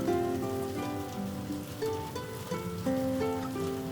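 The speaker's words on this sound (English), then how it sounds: "The rain fell steadily outside, its soft patter against the tall windows of Grace's studio" Steady rain pattering softly against tall studio windows, an even, continuous wash of drops beneath gentle sustained melodic tones throughout.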